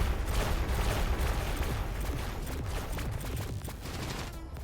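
Antimatter turrets firing in the X4 Foundations space game: a dense, continuous barrage of rapid blasts and crackling shots, loud and sustained, fading slightly toward the end, no voices.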